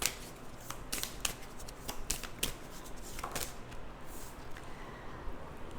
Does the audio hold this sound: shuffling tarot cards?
yes